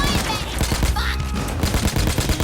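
Rapid bursts of automatic gunfire in Payday 2 crack loud and close in dense, overlapping volleys that repeat throughout.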